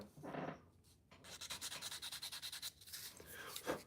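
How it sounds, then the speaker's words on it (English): A tobacco pipe sanded by hand to refine its shape and cheeks, heard as close, quiet rhythmic rasping strokes in quick succession after a couple of slower rubs, with no talking. "Here's the one I'm sanding on currently, Florencia."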